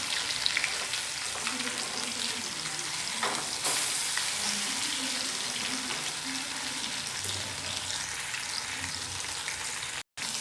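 Paneer kababs fry in a pan with a soft, steady sizzle and occasional light scraping as they are turned, close and even, with no talking over it.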